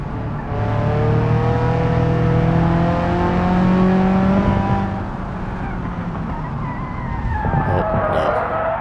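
An Ibishu 200BX in a racing video game loses grip and spins out, its tires screeching in a long, loud, wavering squeal over the revving engine, which then drops away and rises again as the car recovers.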